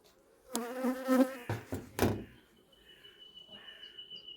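Honeybees buzzing around a garden beehive during fitting of a honey super in mid-April, a close, loud droning burst with a few sharp knocks, then a thinner high buzz continuing faintly.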